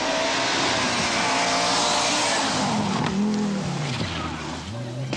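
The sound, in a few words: rally cars racing, Rothmans Opel, 1982 Portugal Rally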